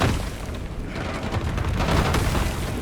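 Airstrike in Call of Duty: Black Ops 6: a loud, sustained rumbling boom of blasts with heavy low-end roar that swells and holds for a few seconds.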